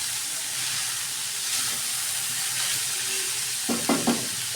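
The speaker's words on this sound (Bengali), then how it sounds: "কাঁকরোলটা এখন কয়েকবার নাড়ে দিছি, এখন আবার নাড়তেছে" Spiny gourd frying in oil in a pan gives a steady, hissing sizzle, with a few short scraping stirs near the end.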